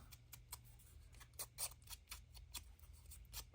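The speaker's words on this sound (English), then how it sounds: "Where's my little scissors?" Small scissors snip paper around the edge of a junk journal craft piece, making a quick run of crisp, close clicks and cuts in an uneven rhythm over a low steady background hum.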